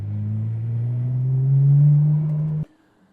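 A Nissan R34 GTR engine runs steady and loud nearby, its low drone swelling slightly before cutting off abruptly near the end, with no talking.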